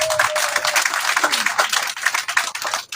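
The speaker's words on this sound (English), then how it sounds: "Please, let's clap for ourselves once again." An audience claps together at a real estate company event, dense clapping sustained throughout with a voice or two mixed in the background.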